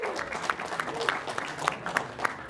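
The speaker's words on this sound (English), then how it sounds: "can we have a huge round of applause as we bring to the desk the winning captain?" Applause and cheering from the crowd at a live CS:GO esports match, a steady dense clatter of clapping with scattered louder claps running throughout.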